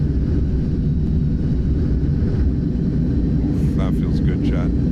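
Thrust reversers of an iniBuilds A310 airliner roaring on landing in Microsoft Flight Simulator, a steady loud jet rumble sustained throughout, with a voice talking over it briefly near the end.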